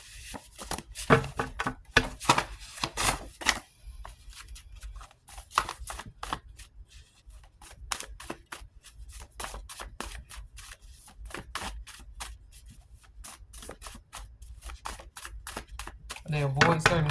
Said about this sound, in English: cards flying everywhere